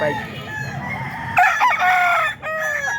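A rooster crows at a market, a loud close call that breaks and repeats in drawn-out bursts over a busy background murmur.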